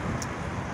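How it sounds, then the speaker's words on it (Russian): Strong wind outdoors, a constant low roar and buffeting rumble against the microphone, steady and fairly quiet, with no voices. "до такой степени сильный ветер"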